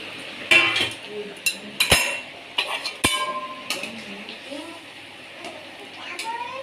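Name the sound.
lifting a metal plate lid off a cooking pot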